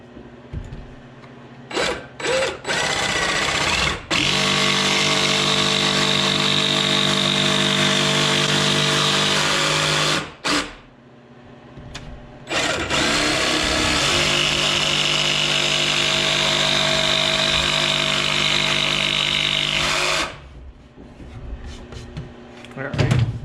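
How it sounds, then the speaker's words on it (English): A jigsaw fitted with a small scrolling blade cuts scrap wood in two long, loud buzzing runs of several seconds each, separated by a brief pause, with rattling and handling noises in between. "We're gonna use our jigsaw, the little scrolling blade."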